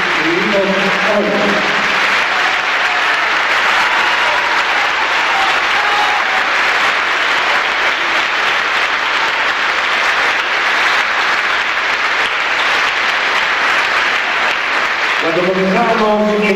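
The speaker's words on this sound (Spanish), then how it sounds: "celebre el aplauso grande en esta noche mágica de arte que vivimos hoy" A concert audience at a choir performance in Malvinas Argentinas bursts into loud, sustained applause that fills the whole stretch, with a voice speaking over the clapping at the beginning and again at the end.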